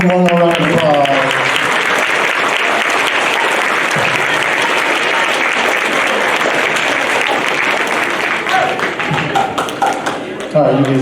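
Sustained, loud applause from an audience at a middle school spring band concert, steady clapping filling the hall for most of the clip and thinning toward the end, with a brief voice at the start and close.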